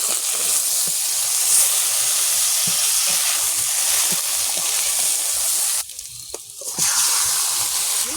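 Bay leaves frying in hot oil in a pan, a steady loud close sizzle and hiss that dips briefly to quieter bubbling near the end before swelling again.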